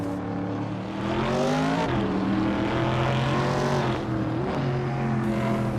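Racing cars overtake on a track, engines whining in a steady, loud drone with rising and falling pitch as several cars run close together.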